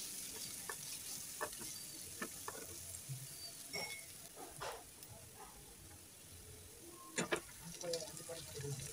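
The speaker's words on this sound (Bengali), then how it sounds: "পেঁয়াজটাকে নেড়ে চেড়ে ব্রাউন কালার করে ভেজে নেব।" Chopped onions fry in oil in a pan, making a soft, continuous sizzle with intermittent clinks and scrapes of stirring, heard fairly close and quiet.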